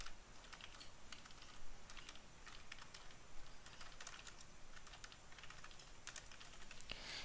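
Steady typing on a computer keyboard, a continuous run of light rapid clicks at close range with no talking over it.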